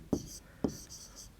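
Writing on paper during a class 10 maths lesson: two soft taps of the pen landing, then short, quiet, scratchy strokes, heard close over about a second.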